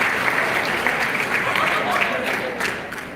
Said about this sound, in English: I'm clapping, so if you see the vibration, that's it